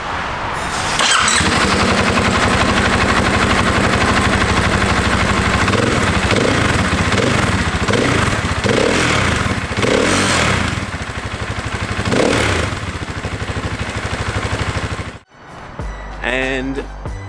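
A 2020 KTM 500 EXC-F dirt bike with its stock spark arrestor exhaust runs with a steady, close engine drone and a few throttle blips, cutting off near the end to quieter sounds.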